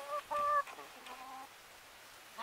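Miss Bertha, a big backyard hen, gives a few short clucks close by, the brightest burst coming early, followed by softer trailing calls in a quiet space.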